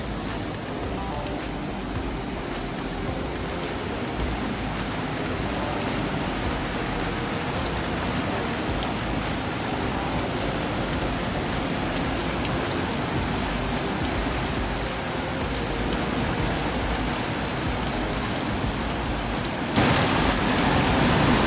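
Heavy rain from storm bands pours down steadily and loudly on the coast, a dense unbroken roar of drops hitting surfaces for the whole stretch, with no voices.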